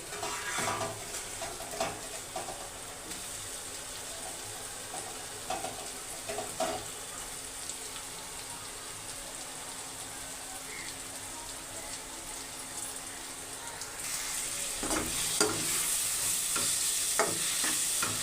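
Tomato pieces and onions sizzle in a frying pan, a continuous crackling fry broken by repeated stirring scrapes and clatters, with a louder burst of stirring near the end.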